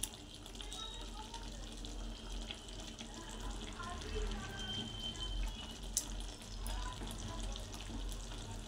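Prawns are added to a hot pan and sizzle, a steady bright crackle that carries on with a faint clink or two partway through.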